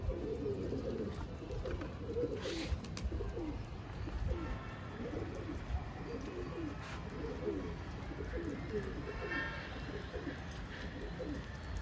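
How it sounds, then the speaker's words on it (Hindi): Patiala pigeons coo from the rooftops in repeated soft, throaty calls that overlap steadily and sit fairly close, over faint background noise. "सारे पटियाले कबूतर है, एक दो देसी होंगे इसके अंदर"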